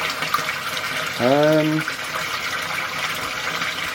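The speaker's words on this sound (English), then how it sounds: "Waterfall functioning." A garden pond waterfall fed by a replacement pump splashes continuously with a bright, steady trickle, while a brief tonal voice-like sound rises over it midway.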